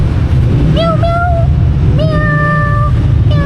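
A cat meows twice close by, two rising, drawn-out cries about a second apart, over a constant low rumble of background noise.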